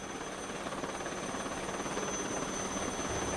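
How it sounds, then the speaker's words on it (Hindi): An Indian Navy helicopter flies a cyclone rescue mission at Daman, heard as a steady, broadband rotor and engine roar at moderate distance that stays constant throughout, with no voices. "आप हेलीकॉप्टर देख पा रहे हैं"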